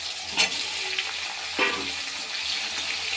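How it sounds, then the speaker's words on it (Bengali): Black cumin seeds frying in hot oil in a kitchen pan, a soft steady sizzle with a couple of brief clinks or stirs, no talking. "এই যে কালো জিরেটা দিয়ে দিলাম তেলে।"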